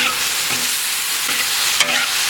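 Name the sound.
stir-frying meat with white chili peppers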